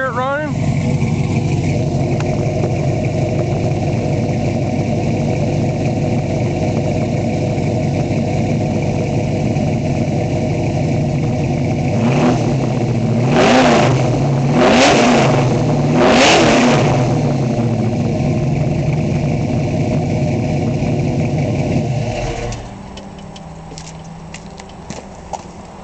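A 1968 Ford Mustang Fastback V8 idles loudly up close, then revs three times in quick succession before settling back and cutting off near the end.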